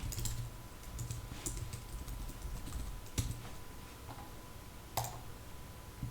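Someone types on a computer keyboard, a quiet, steady run of soft key clicks with a couple of sharper taps, close and alone with a faint background hum.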